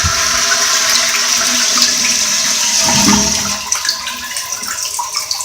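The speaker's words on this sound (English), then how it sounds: "when I flush this, I want you to watch how the water just sprays out of this thing" A loud toilet flush rushes and gurgles, then water hisses steadily as the tank refills, with a spraying, splashing quality from a faulty fill valve spraying water inside the toilet.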